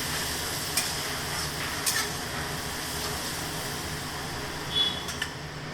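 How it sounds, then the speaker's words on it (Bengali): Spice paste with ground coriander stirred and fried in a pan, an even low sizzle with occasional scraping knocks of the utensil, close and fairly quiet, with no talking. "সময় নিয়ে এবার মশলাটাকে একটু কষাবো"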